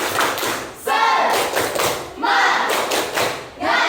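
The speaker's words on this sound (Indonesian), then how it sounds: "Tepuk semangat." A class of schoolchildren does a rhythmic spirit clap chant, bursts of patterned clapping alternating with shouted group voices, loud and close in a classroom.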